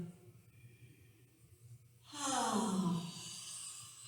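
A slow, audible breath with a soft voiced "ha" on the exhale, a quiet inhale followed by a louder airy release lasting about two seconds, close and alone.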